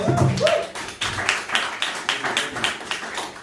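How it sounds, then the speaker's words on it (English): An audience at an art event claps, a loud burst that settles into a run of distinct, fairly evenly spaced claps with a voice briefly heard at the start. "clap for that"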